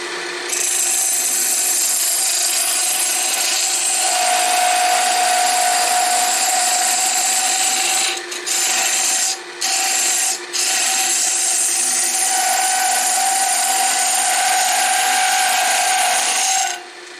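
Steady scraping and rasping of a tool cutting a wooden hanging ornament spinning on a lathe, continuous and close with a few brief breaks near the end.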